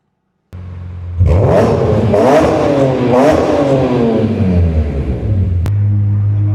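BMW E46 M3 track-spec car revving hard from a standing start, loud and close, with repeated rising and falling engine sweeps over a steady low rumble before settling back to idle.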